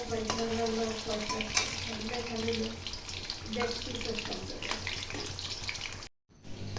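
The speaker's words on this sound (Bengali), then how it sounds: "তেলটা গরম হয়ে গেছে এবার চলো আলুগুলো ফাটাফাট ভেজে ফেলে" Potato pieces fry in hot oil with a steady, close sizzling crackle, accompanied by a sustained tonal hum underneath and brief drop to near silence at the end.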